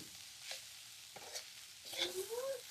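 Onion, garlic and coconut roast in oil in a pan for a Konkani-style onion-garlic masala, giving a faint, soft sizzle with a few quiet stirring scrapes close by.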